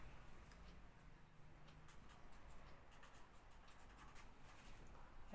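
Faint scratchy strokes of hand writing on a board or paper during an accounting class, quiet and intermittent against a soft room hiss, with no talking.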